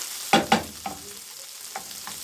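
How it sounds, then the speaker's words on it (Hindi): Chicken and capsicum sauté in a pan, with two sharp, close scrapes of a spatula followed by softer, scattered stirring knocks over a faint, steady sizzle. "ये हो गई मेरी चिकन और कैप्सिकम सौते"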